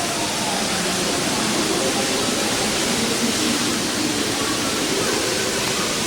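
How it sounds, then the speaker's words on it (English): A steady, dense roar of rushing water fills a large, echoing indoor water park, constant and loud with no clear voices standing out. "Rockford's Indoor Water Park."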